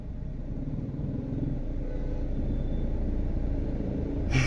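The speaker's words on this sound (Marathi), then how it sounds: "आता गाडी गाडीचा एकदम व्यवस्थित आवाज येणार सीएनजी बघा" An old car's engine runs on CNG with a steady low rumble, heard close and continuous, rising slightly before a short bump at the end.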